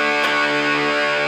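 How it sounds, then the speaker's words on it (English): A distorted electric guitar chord is strummed without palm muting and left ringing, so the crunchy overdriven tone sustains loudly and evenly after a single attack. "That's with no palm muting,"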